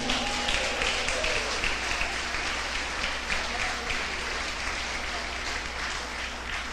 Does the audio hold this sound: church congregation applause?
yes